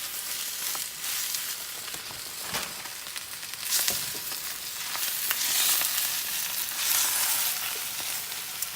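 Greens fry in hot oil in a pan, a steady close sizzle with brief rustling bursts as they are turned over, with no voices.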